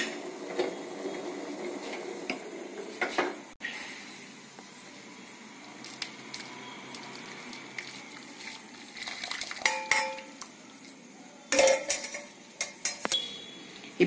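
Melted jaggery syrup is strained at home with quiet pouring and intermittent metallic clinks and scrapes of utensils against vessels, louder clatters coming in bursts near the middle and end.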